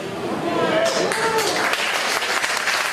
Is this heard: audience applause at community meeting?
yes